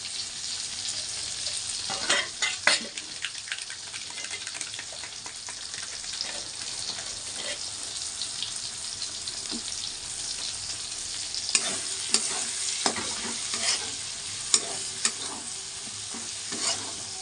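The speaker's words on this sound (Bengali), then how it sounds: "দেখো বন্ধুরা মশলাগুলোকে আমি একটু মিক্স করে নিই" Spices are stirred and mixed into chicken curry frying in a pan, with steady sizzling throughout and scattered scraping, clattering spoon strokes rising above it, fairly close and with no talking.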